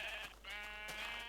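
Sheep bleating in the Minecraft video game: a few short, nasal, wavering bleats in quick succession, loud and close, with no talk over them.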